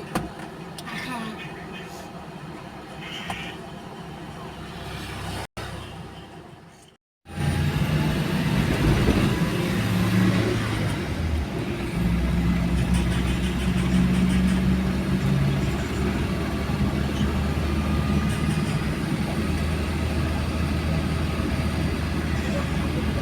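Teachers set off on motorcycles on an outing, their engines droning loudly and steadily after a brief drop-out, with people talking over the noise.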